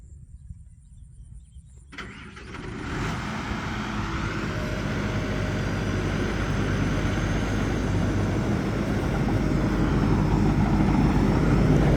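A new Supakorn combine harvester working a field of wet rice starts up and builds into a steady, loud engine drone and mechanical roar that grows gradually heavier and nearer, with no talking.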